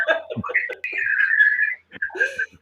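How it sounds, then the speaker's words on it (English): Someone whistles a lilting, sliding tune nearby, with brief chuckling and speech sounds mixed in around it. "somebody's whistling at us"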